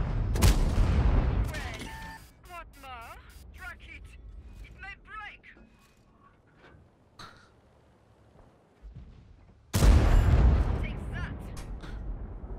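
Rapid bursts of gunfire and booms crackle through a game scene, with someone talking over much of it and a loud blast near the end.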